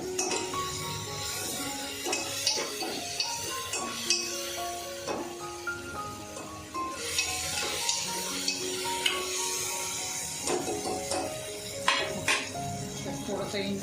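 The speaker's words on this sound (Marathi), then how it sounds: "आता त्यामध्ये टाकूया आलं लसूणची पेस्ट, चांगली परती या तेलावर." Ginger-garlic paste fries in hot oil in a pan while a spoon stirs and clinks against the metal, a steady sizzle under frequent scraping taps, close by, with someone talking over it.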